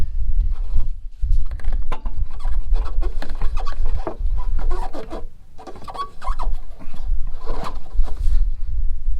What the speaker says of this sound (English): You have to go another pump here.